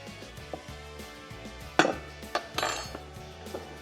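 Dishes and cutlery clink in a home kitchen as a spice-bag chilli squid coating mixture is spooned into a bowl; a few light taps and scrapes, close and fairly quiet, with two brighter clinks near the end.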